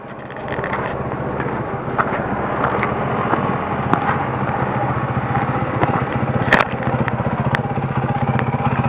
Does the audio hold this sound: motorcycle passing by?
yes